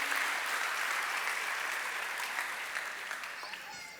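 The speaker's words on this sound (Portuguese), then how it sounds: "Você pode dar uma salva de palmas a Jesus." A church congregation applauds in a sustained, steady wash of clapping that fades slightly toward the end, with no voices clearly standing out over it.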